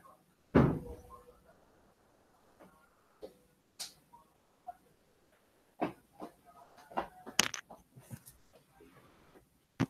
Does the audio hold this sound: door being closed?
yes